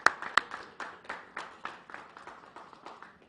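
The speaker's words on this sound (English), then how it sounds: "we owe a round of applause for that" An audience claps at a bill-signing event, a loose patter of handclaps that starts sharp and dense, then thins out and fades over a few seconds.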